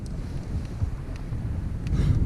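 Wind gusts buffet the microphone outdoors on the water during a cold November day of bass fishing, a continuous low rumbling roar that swells slightly toward the end.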